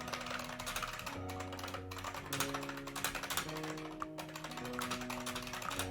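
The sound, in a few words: typing on a computer keyboard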